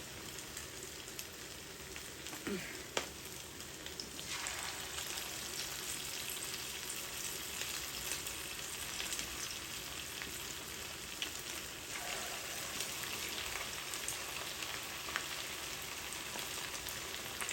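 Meat kofta fries in oil over a low flame, giving a steady, faint, even sizzle that carries on throughout without a break.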